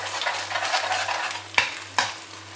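Beaten egg fries in hot oil in a pan over high heat for roadside chicken fried rice, a steady loud sizzle broken by two sharp clinks of stirring.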